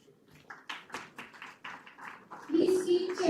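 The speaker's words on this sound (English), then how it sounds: "Please keep cheering for your classmates and friends, please." Graduation ceremony audience clapping, a steady patter of applause swelling slightly, with a voice speaking over it toward the end.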